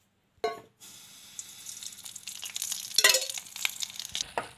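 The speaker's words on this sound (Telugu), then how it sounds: "ఎండు పచ్చిమిర్చిలు ధనియాలు వేసుకొని కొద్దిగా ఆయిల్ వేసుకొని వేయించుకున్నా" Dried red chilies and coriander seeds fry in a little oil in a pan for gongura pickle, giving a steady close sizzle with brief stirring scrapes and a louder crackling burst midway, and no talk.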